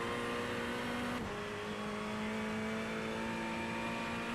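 A Ferrari 488 GT3 Evo engine drones in iRacing at Summit Point, a steady humming tone under part throttle that briefly shifts pitch as the throttle is adjusted, continuous and close with no one talking.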